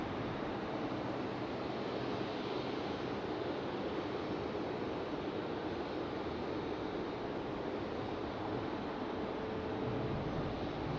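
An American Airlines Boeing 777 arriving from London Heathrow at Raleigh-Durham International, heard as a steady, broad roar with a breathy, wind-like texture that holds for the whole stretch, with no one talking.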